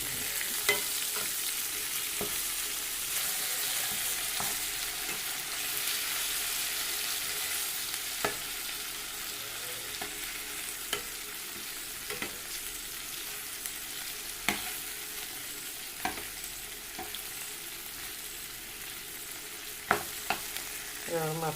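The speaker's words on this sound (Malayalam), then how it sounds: "നമ്മൾ മീനൊന്ന് മറിച്ചിടട്ടെ" Chilli-marinated fish sizzling steadily in a pan after being flipped, a dense crackling hiss with scattered sharp clicks and taps from a spatula, close and continuous.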